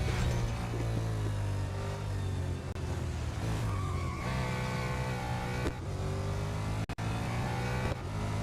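A race car in the mobile racing game Real Racing 3 brakes hard and skids, tires squealing over a steady loud engine drone that runs for several seconds with brief dropouts.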